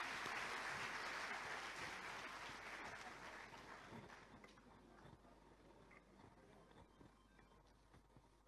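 Loud applause greets the chief minister at a Bhopal public event. It starts as a thick burst of clapping, then slowly thins and fades over several seconds, leaving scattered claps that trail off toward the end.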